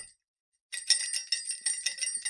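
After a brief silence, small bells jingle and tinkle in quick repeated bursts, bright and close, with no talking.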